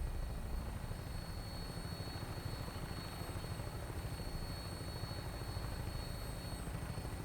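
Vertibird aircraft in flight in the game Horizon 1.9, a steady loud rotor drone with a fast low chop and faint high whine, unbroken throughout.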